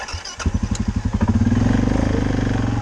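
A Suzuki KingQuad 750 ATV engine, modified, revs up while riding: a close, loud, rhythmic thumping exhaust that quickens from a chugging idle into a steady, faster pulse.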